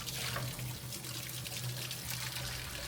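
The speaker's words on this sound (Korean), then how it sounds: "트레킹 떠나기 전 사용한 식기는 깨끗이 씻습니다" Steady tap water runs into a campground washing sink while used camping dishes are rinsed, a continuous close splashing stream with no talk.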